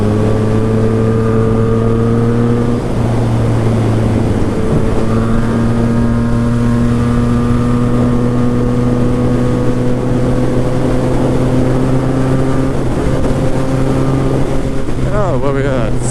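A Yamaha FZ-09 motorcycle engine hums steadily while riding, a strong sustained tone with shifting pitch and wind rush over the microphone, rising near the end as revs change.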